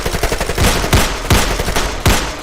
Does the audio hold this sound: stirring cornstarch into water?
no